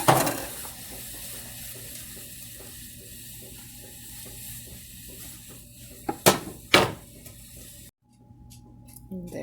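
Diced onion goes into a hot kettle with a soft sizzle and scraping as it is stirred. Two louder clattering bumps come near the middle, and then the clip drops into quiet.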